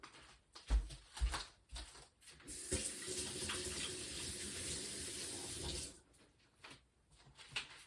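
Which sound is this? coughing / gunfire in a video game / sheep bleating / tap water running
tap water running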